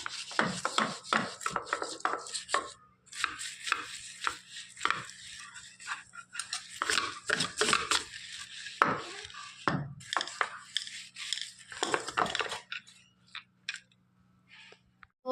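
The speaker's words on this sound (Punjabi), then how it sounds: "ਚੰਗੀ ਤਰ੍ਹਾਂ ਇਹਨੂੰ ਰਗੜ ਕੇ ਸਾਫ਼ ਕਰ ਲਾਂਗੇ" A wash basin is rubbed and scrubbed clean with quick, rasping strokes that come in close, rhythmic bursts, with brief pauses between them.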